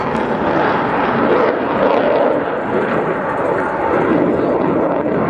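A Czech Saab JAS 39C Gripen jet flying a display at RIAT, a loud, continuous roar of the engine that rises and falls slightly as it holds its power, with no voices.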